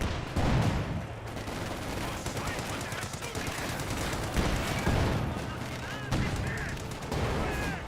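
Grenadiers' rifle and machine-gun fire in the WWII strategy game Company of Heroes 2, a dense continuous battle clatter of rapid overlapping shots with distant booms, while a caster talks over it.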